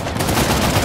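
Dense rapid gunfire bursts in the action game Uncharted: The Lost Legacy, a loud continuous volley of shots filling the whole moment with no talk over it.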